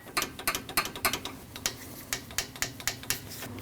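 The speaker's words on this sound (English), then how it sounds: "Then you can tighten that bolt." A ratchet tightens a bolt on the AC condenser of a 2012-2016 Honda CR-V 2.4L. It gives a steady run of crisp, close clicks, about three per second, with no talk.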